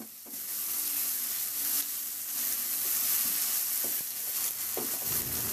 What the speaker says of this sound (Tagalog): The same process, ihalo hanggang sa maluto lang din yung kamatis.